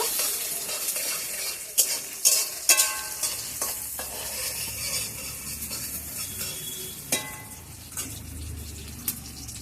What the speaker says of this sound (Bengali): একটু লাল লাল করে ভেজে নেব।